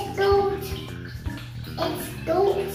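A small child splashing in water in a bucket, with repeated sloshes and splashes close by, mixed with a voice and an adult talking.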